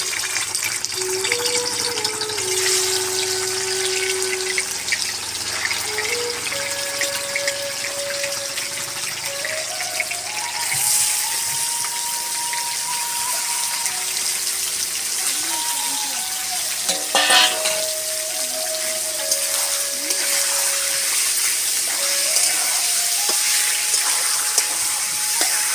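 Marinated chicken for doi chicken sizzles loudly in hot oil in a kadai, a bright continuous frying hiss lasting throughout, with stirring clatter and some faint tonal background sounds underneath.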